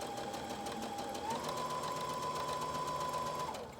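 A sewing machine stitching a waistband runs in a steady close whirring drone with a fast rhythmic needle beat, its pitch rising slightly before it stops.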